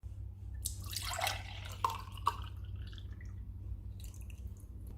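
Ragi milk trickles and drips steadily through a filter with a few distinct splashy drops, a soft close-up pouring sound over a low background hum.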